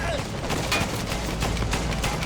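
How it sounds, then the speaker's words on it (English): Rapid anti-aircraft gun fire in a video game, a dense continuous burst of loud shots filling the whole stretch with a faint voice beneath. "can I just shoot him with the AA gun?"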